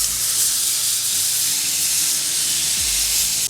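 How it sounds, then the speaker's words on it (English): Smashed burger patties sizzle loudly on a buttered Blackstone flat-top griddle, a steady dense hiss with a brief scraping clink near the end, no talking. "Put some butter down. Get these patties down here. And give each one a good smash."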